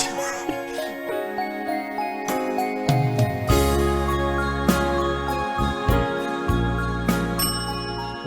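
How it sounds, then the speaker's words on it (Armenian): Bright bells jingle and ding through a New Year song, their ringing tones sounding steadily over the melody and deep bass notes of the music. "Զանգը կա, Ամանորյա երգա"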